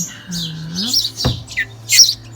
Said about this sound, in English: have some blackbird fledglings